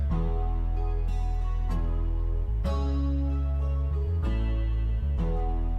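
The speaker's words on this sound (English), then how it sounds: "I just found an acoustic guitar out of Ample" Strummed acoustic guitar chords from an Ample virtual instrument ring out over a deep sustained bass in a hip-hop beat, changing every second or so in a steady, full-sounding progression.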